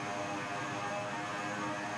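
Steady, loud turboprop drone of a simulated King Air C90B cockpit in X-Plane 11, an even, unbroken engine hum with no talk.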